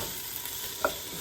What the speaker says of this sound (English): Gonna mix the carrots in with these onions.